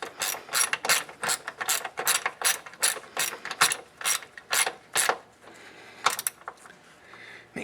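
A 1/4 inch drive ratchet tightens a 12mm bolt on a Toyota Corolla front sway bar bushing bracket, with a loud, close run of rapid clicking pawl strokes in bursts, then a few slower clicks and a short pause.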